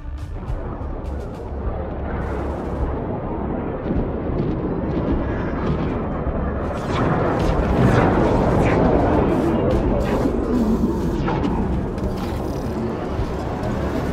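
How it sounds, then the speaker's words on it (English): Ship hull defense guns in Homeworld 3 firing under simulated attack, heard as a continuous rumbling barrage of distant booms and crackling impacts, rising in intensity midway, with a voice speaking over it. "Our ship is under simulated fire. Hull defense guns are active and engaging targets."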